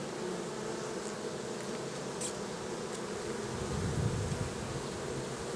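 Honey bees swarm around an open beehive, giving a dense, steady buzz that stays close and loud throughout, with no talk over it.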